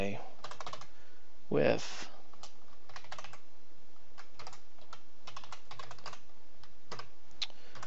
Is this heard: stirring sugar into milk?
no